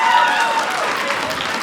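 A comedy-special crowd answers with a short burst of applause, a thick, even spatter of many hands mixed with scattered cheers and voices, fading slightly toward the end.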